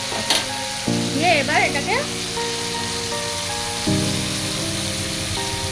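Softened tomato, green chilli, salt and a ground spice paste sauté in a hot pan. A loud, continuous sizzle and frying crackle carries on while someone speaks over it.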